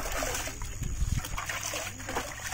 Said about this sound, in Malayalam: അതിനുശേഷം ബാക്കി വെള്ളം നമുക്ക് ചേർക്കാം.